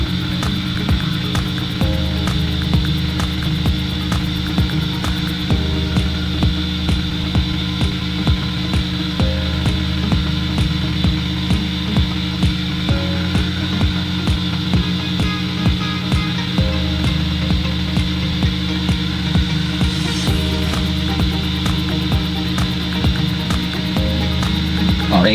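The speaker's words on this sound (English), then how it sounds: "Always be very careful when you pull the heat gun." A heat gun warming the outer case of an Insta360 X4/X3 camera lens runs continuously with a loud, steady hum and an even whirring drone.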